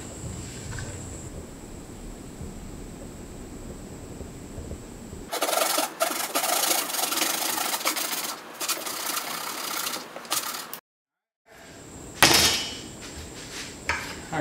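A wooden seat back is notched out with a hand tool, heard as close, rough rasping and scraping for several seconds. A short silent gap follows, then a few more scraping strokes, over a faint steady hum.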